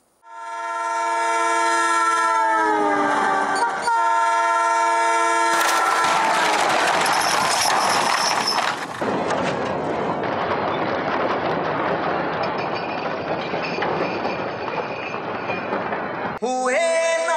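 A train runs loud and close, with a long sustained horn blast at the start, then heavy rumbling and rattling of rail cars, and another short horn burst near the end.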